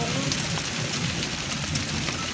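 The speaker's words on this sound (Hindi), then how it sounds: "बाहर फुल ज़ोरदार बारिश है।" Heavy, stormy rain pours steadily outside, a dense, continuous hiss with no letup and a faint low rumble beneath it.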